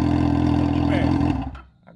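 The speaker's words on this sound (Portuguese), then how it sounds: "Eu vou ligar a moto aqui de perto." A Yamaha XJ6 motorcycle with its original exhaust runs up close, giving a loud, steady low engine drone that cuts off abruptly partway through, leaving near silence.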